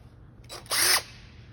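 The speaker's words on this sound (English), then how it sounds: "impact driver, hello, and pounding them in 3 places." A DeWalt 20 volt max impact driver runs in one short, loud burst of about a quarter second, driving a screw into vehicle trim, with quieter workshop noise before and after.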